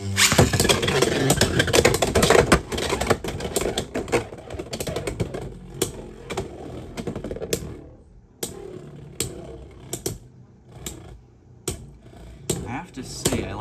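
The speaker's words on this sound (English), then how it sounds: "I'm going to launch Wyvern first on the string, and then use Unicorn on the blue launcher." Beyblade tops launched by string and by a blue ripcord launcher, then clattering and scraping in a stadium battle: dense, loud rattling that thins after about eight seconds into sparse sharp clicks of collisions.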